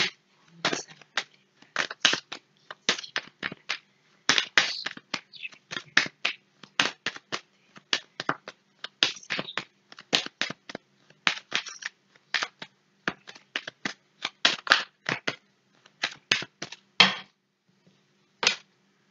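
A deck of 32 tarot cards being shuffled and cut, heard as a long run of crisp, close riffling snaps and flicks in quick irregular bursts, with no voices over it.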